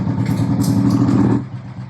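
A motorcycle engine, just started after using the choke, runs at a close, loud, steady idle with a clattering low rumble, then drops in level near the end.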